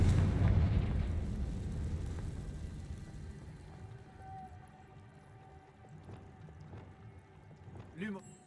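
Confringo explosive spell blast in Hogwarts Legacy, a loud booming burst at the start that rumbles and decays over several seconds, followed by faint clatter and a small thump near the end.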